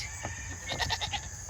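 Goats on a farm bleat in a short burst of several quick, wavering calls close by at moderate volume, with no talking.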